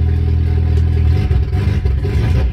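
A turbocharged car engine idling rich, a steady close, loud low rumble with uneven clattery pulsing and slight fluctuation, no voices over it.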